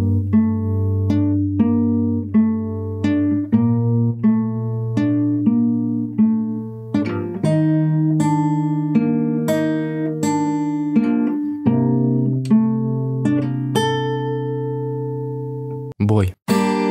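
An acoustic guitar plays the complete riff of a song, picked single notes ringing out in a clear, steady melodic line up close, alone without voices, ending with a brief handling noise.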